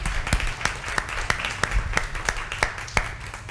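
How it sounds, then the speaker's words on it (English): Congregation applauding a musician during a church service, a steady patter of many hands clapping with sharper individual claps standing out, moderately close and continuous throughout. "give him a round of applause"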